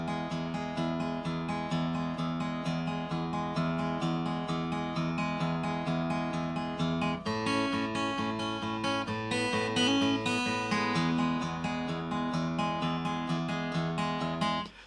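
Guitar playing the opening of a song, a steady picked pattern of ringing notes and chords, close and clear throughout with a short shift in the middle, no talking.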